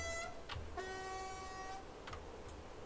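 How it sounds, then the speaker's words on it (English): Train horn in Train Simulator on the Riesa–Dresden line, a tonal blast sounding over a low rumble with short breaks, alone and moderately loud. "Ah yes, the interesting sound of the horn on here"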